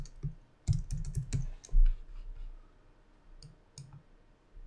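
Computer mouse clicks followed by a quick burst of keyboard typing as an album name is entered, close and moderately loud, then a few lighter keystrokes trailing off, with no talk.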